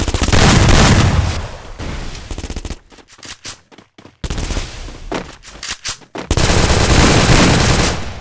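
Rapid automatic gunfire in a 4v4 ranked shooter video game, loud sustained bursts with brief gaps of single cracks and shots before the firing resumes at full intensity.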